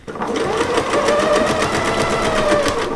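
A sewing machine runs fast and steady, its needle rattling in a rapid, even rhythm close by with no pauses.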